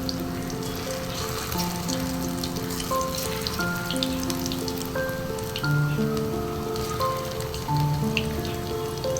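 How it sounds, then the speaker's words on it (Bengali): Soybean pakoras frying in a pan of hot oil, producing a steady, bubbling crackle of small pops throughout, with faint tonal sounds in the background and no speech. "এইভাবে সোয়াবিনগুলো ভেজে নেবো"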